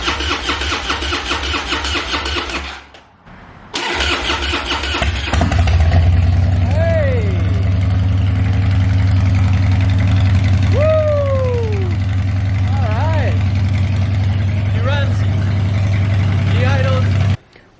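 A small engine on an antique machine is started on a little choke with the fuel on. It cranks briefly, cuts out, then catches and settles into a loud, steady idle close by, with no talk over it.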